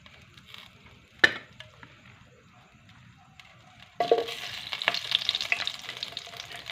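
Sardines with pechay being cooked in a pan: quiet at first with a single sharp knock, then a loud sizzle of frying bursts in and continues with stirring scrapes, close by.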